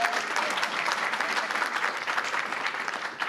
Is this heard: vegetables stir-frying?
no